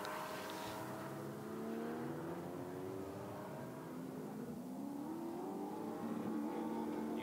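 A Bulgarian-made GT4 race car with a 6.2 litre V8 engine at the Nurburgring circuit, its engine note rising and falling through gear changes, fairly faint and distant, running steadily without talk.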